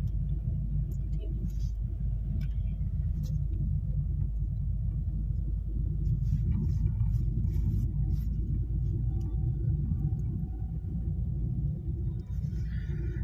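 Car driving along a road during a driving lesson, a steady low in-cabin engine and road rumble throughout, with faint scattered knocks and rattles above it.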